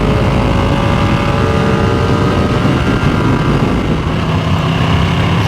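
Riding a Ducati Streetfighter V2 motorcycle, a loud steady engine drone blended with heavy wind rush, constant and close throughout with no clear speech.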